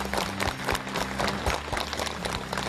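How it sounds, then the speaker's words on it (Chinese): A studio audience applauds steadily, a dense, even wash of many hands clapping for a few seconds to welcome a guest onto a television health show set. "掌声欢迎这位观众。"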